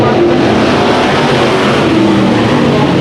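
Race cars at Antioch Speedway crossing the finish line, a loud, dense roar of engines close by, sustained and unbroken for a few seconds as the cars drive past at full throttle.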